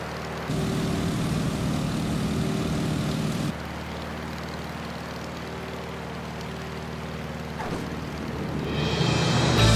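A Stearman biplane's radial engine in Microsoft Flight drones steadily with a propeller hum, loud and continuous; the tone drops slightly partway through, then swells again near the end. No talking.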